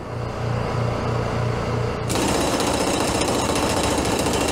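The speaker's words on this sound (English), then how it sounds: "we're going to try to throw the 1-inch impact on that and break that weld" A one-inch pneumatic impact wrench hammers against a welded nut on a log splitter hydraulic cylinder, starting midway with a loud, rapid, continuous rattling burst after a background hum with rhythmic pulsing.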